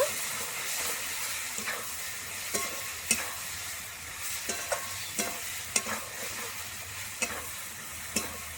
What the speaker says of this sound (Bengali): সর্ষে পোস্তর সঙ্গে ঝিঙে একটু 2 মিনিট মতো একটু নেড়ে চেড়ে নেব